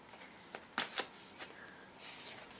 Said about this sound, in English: shuffling tarot cards